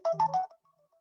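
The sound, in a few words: phone ringing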